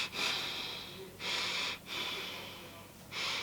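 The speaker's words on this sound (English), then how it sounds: "But you don't realise how heavy your breath becomes." A pregnant woman demonstrates her heavy breathing: four close, loud, breathy inhales and exhales in a steady rhythm, with no other sound.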